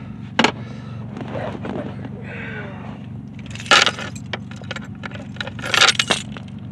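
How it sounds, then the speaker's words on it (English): Keys jangle and clink while being worked out of the ignition of a 1986 Bronco II, with several sharp metallic bursts over a steady low hum. "Now, I just can't get the keys out."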